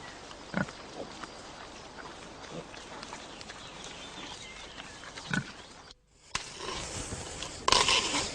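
Pigs root and dig in a mountain permaculture orchard, giving scattered snuffling grunts and scraping thuds over a low ambient background, with a brief hush before louder rustling returns.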